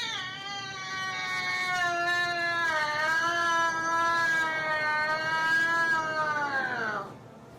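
Two family cats in a tense standoff let out a long, drawn-out yowling growl that wavers in pitch and swells before trailing off, loud and close with no talking.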